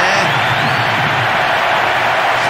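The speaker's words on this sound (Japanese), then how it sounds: "スタジアム中が大歓声で揺れています。" A stadium crowd roars continuously in the Winning Eleven 2014 soccer game on PlayStation Portable, a steady wash of cheering and whoops after a late hat-trick goal, loud and sustained throughout.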